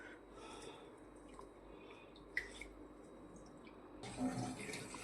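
Rice being washed in water for an onion and rice dish: faint trickling and dripping water, with a louder rush of running water near the end.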